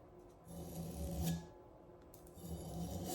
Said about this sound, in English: you're just kind of almost honing that edge with the sandpaper